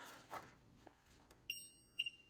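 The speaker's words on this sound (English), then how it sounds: "if the audio is enabled, that will typically give you an audio signal similar to a shot timer" Two short electronic beeps from a NURO training device starting a session, similar to a shot timer signal, sharp and clear at about 1.5 and 2 seconds over quiet room noise.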